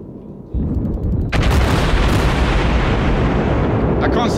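Ship guns on the USS St Louis firing in World of Warships, a sudden heavy boom followed by a second louder blast that leaves a dense, rumbling roar hanging on at close range.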